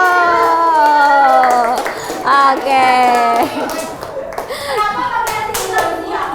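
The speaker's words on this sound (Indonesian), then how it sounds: "Nah, tepuk tangan dulu." Children in a classroom clap their hands in quick rhythmic bursts while young voices chant along, loud and close, with a brief word from an adult at the end.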